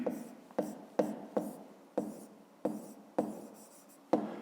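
Handwriting during a 5th-grade math exercise, likely pen on paper: around nine quick scratching strokes at an uneven rhythm, each with a sharp onset that fades, close and quiet, with no speech.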